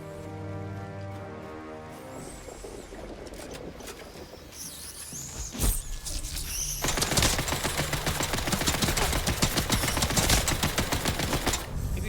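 Rapid gunfire in the video game Atomfall, sparse at first with a sharp crack near the middle, then a dense, loud sustained burst of automatic fire over the last several seconds, with game ambience and music underneath.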